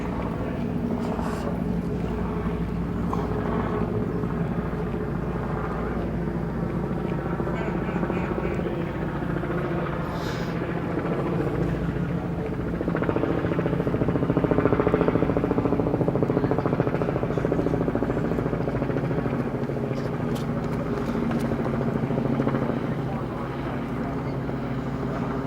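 A helicopter drones steadily overhead above the Thames by Tower Bridge in London, a continuous low rumble that swells slightly midway, with wind and river ambience around it.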